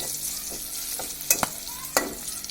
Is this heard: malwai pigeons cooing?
no